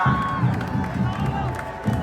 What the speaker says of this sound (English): Let's give a big cheer for Team Troyer.